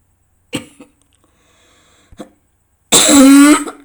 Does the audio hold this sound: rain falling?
no